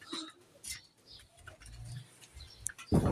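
Caged pet birds, including tiny king quail kept with budgerigars, give short chirps, tweets and soft coos in scattered bursts, close by and fairly quiet, ending with a louder rustle.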